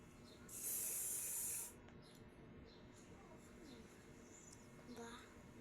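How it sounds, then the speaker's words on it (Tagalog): A face mist spray is sprayed onto a face, producing a single close, airy hiss lasting about a second. Quiet room sound and soft speech follow. "Ilagay muna tayo ng pang-spray sa mukha."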